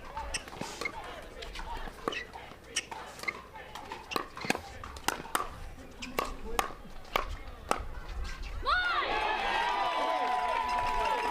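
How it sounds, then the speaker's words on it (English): Crowd at a professional MLP Premier pickleball group-stage match in San Clemente, a steady murmur of spectators under commentary, with sharp paddle pops of the rally and a swell of louder cheering at the end. "We're hearing the crowd a little bit more."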